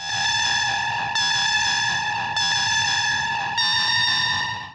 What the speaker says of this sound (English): so this is where this synth comes in.